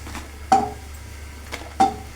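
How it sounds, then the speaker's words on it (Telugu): A utensil clinks twice against a pan and plate while fried green chillies are lifted out, two sharp metallic taps spaced apart over a low kitchen hum. "మిర్చి అనేది చక్కగా వేగిపోయినాయి, తీసేస్తున్నాను ప్లేట్లోకి"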